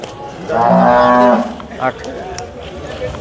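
A large water buffalo lets out one loud, drawn-out moo lasting about a second at the Sangola buffalo market, followed by quieter farmyard background noise and faint voices.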